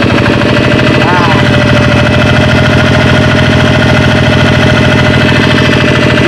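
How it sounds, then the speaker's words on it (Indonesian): Kubota RD 85 diesel engine revving up after a power-loss repair, a loud close rapid knocking chug with steady pulsing, held at raised RPM throughout without pauses. "Ini kita naikkan RPM, alhamdulillah."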